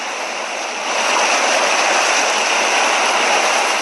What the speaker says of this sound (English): Water shushing and rushing in, then whispering back to the sea again.